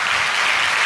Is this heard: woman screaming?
no